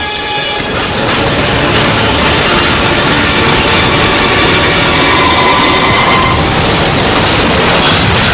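A train runs along a railway, a dense steady rumble of wheels and rolling stock that stays loud and unbroken throughout, with faint higher squeal tones drifting over the roar.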